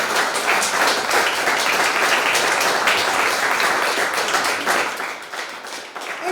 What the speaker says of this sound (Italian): io farei un altro applauso